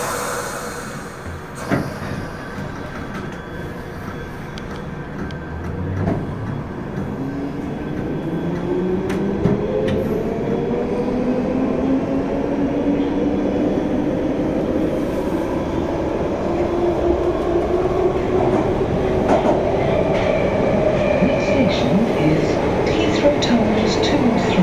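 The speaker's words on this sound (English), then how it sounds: "This train is ready to leave." A London Underground Piccadilly line train departs from Heathrow Terminal 4 toward Cockfosters. The motor whine rises steadily in pitch as it accelerates, with wheel rumble and clicks beneath, heard close from inside the carriage while a recorded announcement plays.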